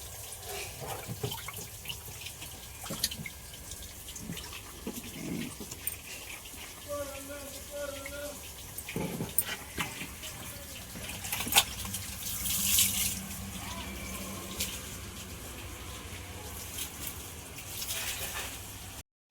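Running water splashes and spatters intermittently as an auto rickshaw is washed down, with people talking nearby over the flow.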